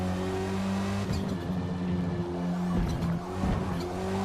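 A touring race car in Forza Motorsport brakes hard, tyres squealing over a droning engine that stays loud and close throughout, with no talking.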